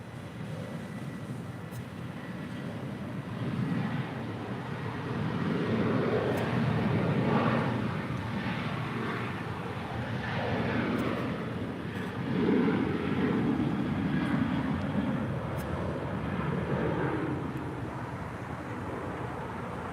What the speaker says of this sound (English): That is American Airlines 939 departing to Phoenix on a 5-year-old 737-800.